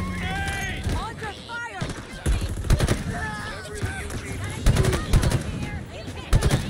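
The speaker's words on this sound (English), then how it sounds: "Opening fire!" Rapid bursts of automatic gunfire from Halo Infinite combat, loud and repeated in sharp volleys with short pauses, mixed with game voices and someone talking over the shooting.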